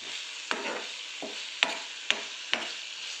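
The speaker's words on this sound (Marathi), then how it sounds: "बघा व्यवस्थित त्याला आता मिक्स करून घेऊया आपण." Grated coconut being stirred into a sizzling chili mixture: a steady frying hiss with several sharp scraping strokes of the spoon against the pan, close by and without talking.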